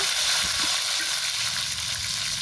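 Tomato, bay leaf, dried chilli and five-spice sizzle in hot oil with a dense, steady frying hiss close by, with faint stirring knocks underneath and no speech.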